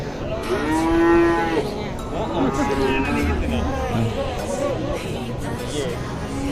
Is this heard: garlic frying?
no